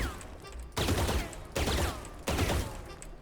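Gunshots fired through a wall in Valorant's Abyss map: three loud, evenly spaced single shots, each with a sharp attack and a short decaying tail over a steady game background.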